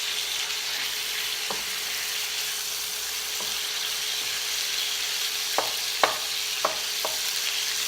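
Beef frying hard over high heat in a pan, a steady loud sizzle throughout with a few sharp metallic scrapes and knocks from stirring near the end.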